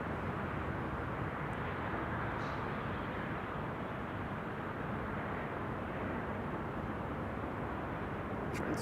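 An Emirates SkyCargo freighter arriving from Dubai into Amsterdam Schiphol gives a steady, distant jet rumble that holds evenly without a clear peak.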